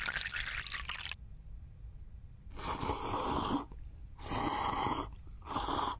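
Hot water is poured onto ramen in two bursts, a gurgling, splashing pour that starts, stops and resumes, close and moderately loud over quiet background hiss.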